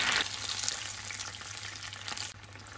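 Tomato puree frying in hot oil, a steady close sizzle with a bright hiss that eases slightly after the first moment, then continues at a lower level.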